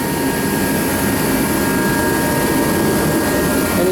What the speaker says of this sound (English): Yeah, I know it's a little noisy. We have to have the heat run.